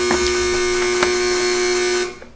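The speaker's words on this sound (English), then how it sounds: "That buzzer indicates the end of our match" A loud, sustained electronic quiz buzzer sounds steadily for about two seconds at the end of a school quiz match, then cuts off abruptly, leaving a brief faint tail.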